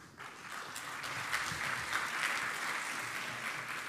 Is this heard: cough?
no